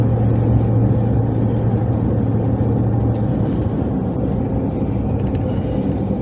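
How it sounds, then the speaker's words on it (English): A car cruising on Atlanta's I-285 highway past other vehicles: a loud, steady low road rumble with tire and engine drone that holds evenly throughout. "I'm passing these vehicles right here."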